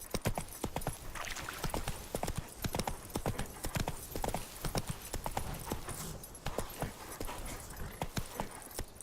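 Hooves of Roach, the horse in The Witcher 3, clip-clop in a quick, steady rhythm close by and fairly loud, with faint in-game ambience underneath.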